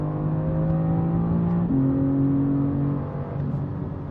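A BMW M4 CSL engine revving loudly and close, a sustained droning tone that steps up sharply in pitch midway, holds, then eases back down, with no voices over it.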